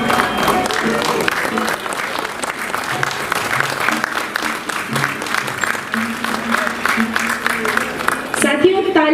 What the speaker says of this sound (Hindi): तालियों की गूंज जबरदस्त होनी चाहिए